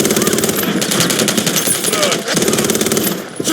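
Rapid automatic gunfire in the Call of Duty Modern Warfare 3 multiplayer video game, a dense, loud rattle of bursts filling the whole moment with a brief gap in the middle and shouted in-game voice lines mixed underneath.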